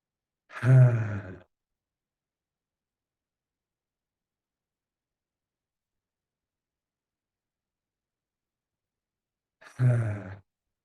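Two slow, deep breaths, each a long audible exhale like a sigh, separated by about eight seconds of silence during a guided meditation.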